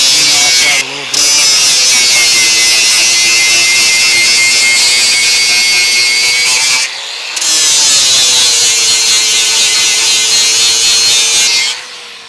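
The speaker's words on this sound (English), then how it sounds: "Use the grinding disc for this part, soft pad, whatever you're comfortable with." Grinding disc cleaning metal on a Lexus GX 460/470 during a rear bumper install, a loud steady high-pitched whine running nearly continuously with two brief pauses.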